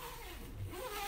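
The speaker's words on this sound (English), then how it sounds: "Pull the zipper down on the other side." A zipper is pulled down along the side of a Wham Bam HotBox fabric enclosure, a short, quiet rasping zip heard close up with no talking.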